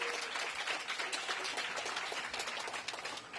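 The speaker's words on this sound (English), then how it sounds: "Please give yourselves a round of applause." Applause from a crowd at an outdoor groundbreaking for an affordable housing addition, dense continuous clapping heard at moderate distance and fairly quiet, lasting the whole moment without talk.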